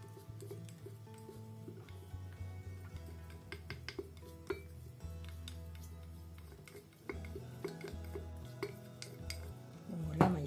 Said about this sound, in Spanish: Van a ir poniendo todo en el frasco.